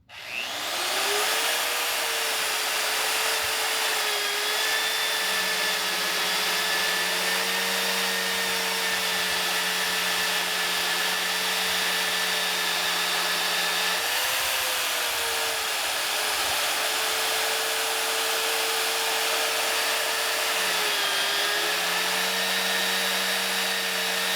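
A steady, loud mechanical whine and drone of a mini excavator auger drilling on a mini skid steer runs continuously, its pitch shifting slightly as the load changes.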